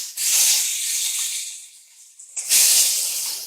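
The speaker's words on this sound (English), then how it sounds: "we are going to add in our boneless beef short rib" Boneless beef short rib hits a hot Dutch oven over medium-high heat, giving a loud, close sizzling hiss that fades slightly, then surges again as another piece goes in.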